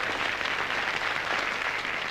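A crowd applauds the final candidate, Eliane, with dense, even clapping that holds steady at full strength before easing slightly at the end.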